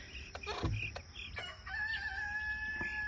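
A hen clucks to her chicks to come and eat, with short calls up close and other fowl and faint insect buzzing in the background, no voices.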